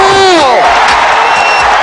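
A basketball arena crowd roars and cheers after a Shawn Kemp dunk in 1995, a loud, dense wall of noise that swells immediately, with a voice calling out over it at the start.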